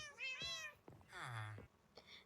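Two short, clear cat meows from a tamed cat in Minecraft, the first a rising tonal call and the second longer and wavering, with a faint trailing chirp at the end.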